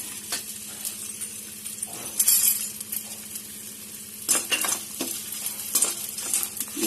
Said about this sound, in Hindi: गोंद भून रही है और जब ये भुन जाएगी तो हम इसे निकाल लेंगे।